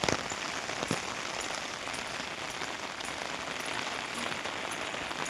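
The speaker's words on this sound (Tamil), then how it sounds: "நல்லா சரியாக மழை அடி அடி அடின்னு அடிக்குது" Heavy rain pours down in a steady dense patter on surfaces, with occasional louder drops and drips standing out against the continuous wash of sound.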